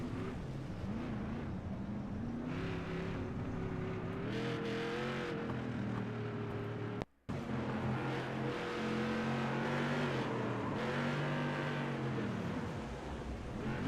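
A race car engine roars and revs steadily, with pitch rising and falling as it accelerates, then a brief cut before the drone resumes.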